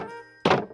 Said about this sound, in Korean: 문이구나.